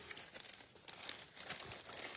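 Paper card crinkling and rustling close up as it is folded flat and slipped back into an envelope, a steady run of soft crackles and brushes with a few sharper creases.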